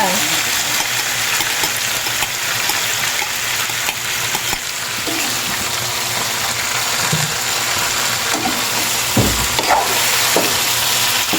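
Sautéed boktit being stirred with sauce in a pan, giving a steady, close sizzle with scraping and stirring noises throughout, and a few louder knocks near the end.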